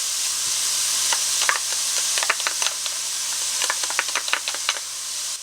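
Garlic sizzles in a pan with wilted kale, a soft steady frying hiss broken by quick crackles and stirring scrapes, close and moderately quiet with no talk.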